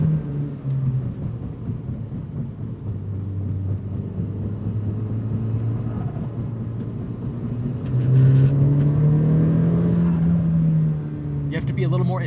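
A 2002 Nissan Silvia S15 Spec-R engine hums steadily, its revs rising and then slowly falling, heard from inside the cabin.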